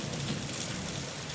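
Steady rain falls as a soft, even patter and hiss, continuous and fairly faint, used as a sound effect in an audio story.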